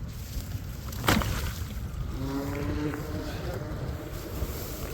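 An MHZ 655mm RC hydroplane powerboat on its maiden run skims across open water, its high motor whine rising in a brief sweep amid steady wind and water noise.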